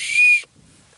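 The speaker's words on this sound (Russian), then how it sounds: "Эта свистулька рабочая." A small toy whistle gives one short, shrill, steady blast that cuts off abruptly, followed by near silence.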